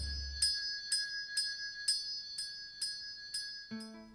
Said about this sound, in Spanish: Colgamos una campana en la puerta de su dormitorio